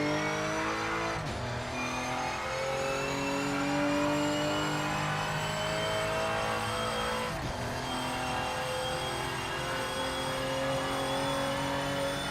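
A race car engine in the video game Project Motor Racing revs and whines through gear changes, loud and continuous, with pitch climbing and dropping at shifts.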